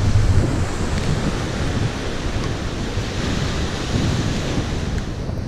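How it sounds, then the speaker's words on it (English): Continuous heavy roar of rough sea surf in rain, with strong wind buffeting the microphone, a dense, unbroken wash of noise throughout. "The sea looks incredibly rough."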